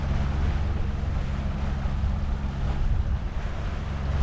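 A Beneteau 423 sailboat under way under motor and sail just out of a harbor entrance near Roatan, with steady wind rush, a low engine drone and continuous water noise along the hull.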